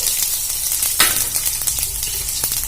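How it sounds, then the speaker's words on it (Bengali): Cumin seeds, a bay leaf and dry chilli hit hot mustard oil with a loud, dense crackling sizzle that flares sharply once and keeps popping close by, with no one speaking. "তেলটা গরম হয়ে গেছে, আমি এখানে ফোড়ন হিসেবে সাদা জিরে, একটা তেজপাতা, শুকনো লঙ্কা দিয়ে দেব।"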